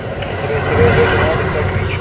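A Boeing 737 MAX airliner arriving from Goiânia at Guarulhos airport produces a loud, broad jet roar that swells and holds steady, with talk over it.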